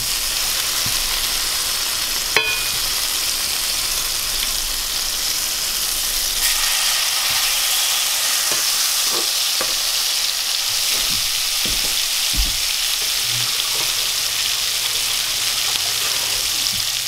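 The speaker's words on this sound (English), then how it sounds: "Got kale cooking back there, grilled onions right here." Kale and grilled onions frying on a grill with a continuous loud sizzle, broken by occasional scrapes and taps of a utensil, close up with no talking.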